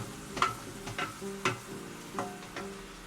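Cumin and spices sizzle in a hot pan while hilsa fish is being cooked, with a steady fry under a series of sharp stirring scrapes and clinks at irregular intervals.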